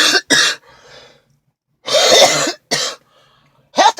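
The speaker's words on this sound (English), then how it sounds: "Healthy cough." Several sharp, close coughs come in clusters separated by short pauses, with soft breathing audible in between.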